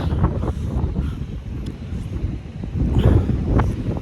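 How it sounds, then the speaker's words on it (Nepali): Strong wind buffets the microphone in loud, rumbling gusts that swell and ease, with a faint whooshing overhead, on a mountain trail between Jomsom and Dhumba Lake, Nepal. "कस्तो डेन्जर"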